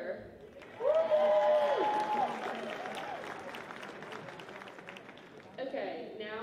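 Crowd at a high school homecoming pep rally applauds the cheerleaders, a burst of clapping and cheering in a large room with an amplified voice speaking over it, fading then swelling briefly near the end.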